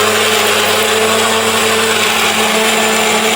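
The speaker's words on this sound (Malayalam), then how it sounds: "ഒരു റൂമിൽ നിന്ന് വേറെ റൂമിൽ വന്നാലാണ് നമുക്ക് മിക്സി അടിക്കാൻ പറ്റുന്നത്" A mixer grinder runs in a home kitchen, giving a loud, steady whirring drone that holds at the same pitch for the whole few seconds, with no voices over it.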